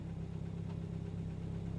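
A car engine in the Assetto Corsa racing game, in an Initial D tofu-delivery setup, runs steadily with a dense, continuous drone at close range and no voices.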